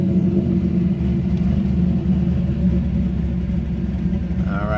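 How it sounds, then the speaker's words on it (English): A Chevrolet C5 Corvette engine starts and runs at a low steady idle with a P0704 check engine light on, a constant deep rumble throughout, with a brief rise in pitch near the end. "we're gonna start the car up"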